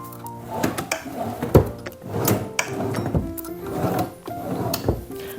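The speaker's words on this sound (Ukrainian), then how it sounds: "В іншій бильці невеличка ніша для дрібничок та три шухлядки." Three small drawers in the armrest of a Monarch eurobook-style sofa slide open and shut in a run of close wooden knocks and scrapes, repeated several times with short pauses between them.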